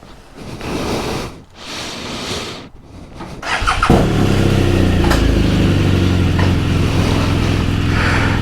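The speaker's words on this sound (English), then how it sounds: "let's start the bike" A Navigator VI motorcycle with an intermittent fault is fired up after a few seconds of shuffling and handling noise, then settles into a loud, steady engine drone with a faint whine riding on top, close to the listener.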